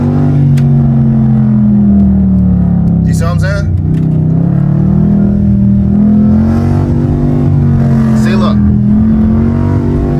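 A car held in first gear with paddle shifters drones loudly and steadily nearby, its engine note rising and dipping gently, while someone talks over it throughout.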